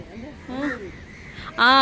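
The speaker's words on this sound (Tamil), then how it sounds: "நிறைய காகம் வந்துட்டு இப்ப பார்த்தீங்களா நண்பர்களே" Crows cawing in Jaffna: a couple of harsh caws nearby, then a louder, close caw at the end over faint background noise.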